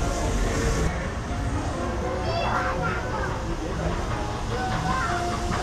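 A Walt Disney World Railroad train pulls into Fantasyland Station with rumbling wheels and hissing steam, while people talk and children's voices sound nearby.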